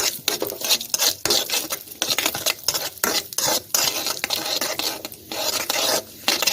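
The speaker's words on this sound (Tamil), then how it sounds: "இந்த முந்திரி பருப்பு போட்டுக்குவோம். லைட்டாக வறுத்த போகிறோம், ரொம்ப வறுக்க தேவையில்லை." Cashews tossed and stirred in hot ghee in a pan, a steady frying sizzle broken by repeated scraping and clinking of a spoon against the metal, close and fairly loud with no voices.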